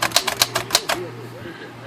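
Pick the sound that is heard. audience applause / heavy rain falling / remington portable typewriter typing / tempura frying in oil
remington portable typewriter typing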